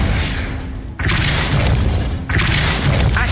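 A Depulso spell cast in Hogwarts Legacy lands as two loud, booming bursts, each a sudden whooshing impact that rings on with a dense roar, with no talk over them.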